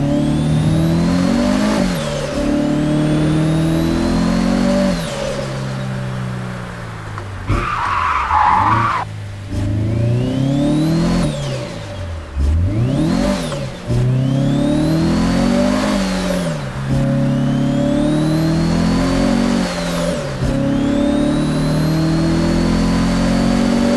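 Car engine in a Japanese drift video game revving hard and falling repeatedly, with tyre skids between throttle bursts, loud and continuous with no talk.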